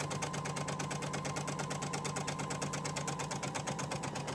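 A sewing machine stitches two small fabric strips together with a narrow seam, its fast, even needle chatter running steadily and close throughout, with no voices.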